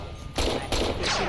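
Pistol gunfire in Fallout New Vegas, three sharp, loud shots fired in quick succession, each with a short echoing tail, with no talking.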